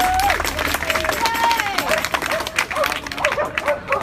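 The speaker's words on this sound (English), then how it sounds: "So give yourselves another round of applause." Applause and scattered clapping from a crowd at an outdoor protest march mixes with overlapping voices and chatter, lively and fairly close, continuing throughout.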